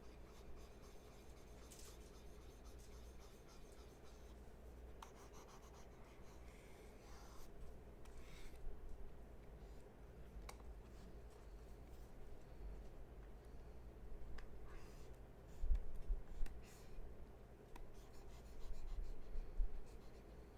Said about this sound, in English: Now we're coloring the zipper.